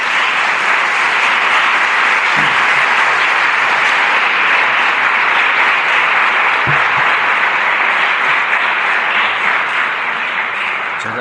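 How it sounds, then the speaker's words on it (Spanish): A large audience at a Passion play performance applauds the cathedral organist, with loud, dense and continuous clapping from many hands sustained for about eleven seconds. "vamos paso ahora con un gran aplauso a Pilar Cabrera"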